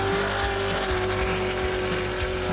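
Talbot Cox's Tropic Petroleum race car at the Gundy 500 accelerates hard over the finish line jump. The engine gives a loud, continuous, close roar with no voices over it.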